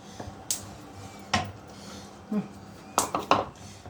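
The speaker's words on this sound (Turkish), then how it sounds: "Buna Un kavururken yağ koymayacağım. Sadece unu kavuracağım." Flour dry-toasting in a pan with no oil, heard as sparse clinks and scrapes of a utensil against the pan, a handful of distinct knocks spread across a quiet background.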